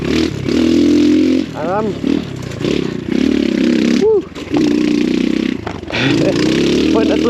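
The engine of an X Pro Storm 150 DLX dual sport motorcycle, a small carbureted bike, drones and revs loudly up close on a rough trail ride, dipping briefly between throttle bursts, while the rider talks over it.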